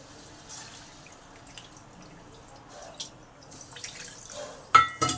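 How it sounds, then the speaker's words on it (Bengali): A little water is poured into a pan of sautéed vegetables: pointed gourd, potato, pumpkin and greens stems. Faint clinks come first, then a brief, close splash near the end, with no talking. "এবার সামান্য পরিমাণ জল দিই।"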